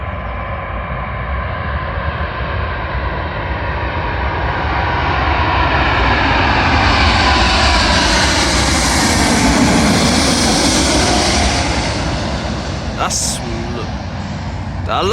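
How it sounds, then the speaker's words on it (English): British Airways Boeing 777ER jet arriving at London Heathrow runway 27L, a loud sustained roar that swells and slowly shifts in pitch as it passes close by, with a faint voice underneath. "Arriving in now is a British Airways Boeing 777ER, working a service from Baltimore to London Heathrow"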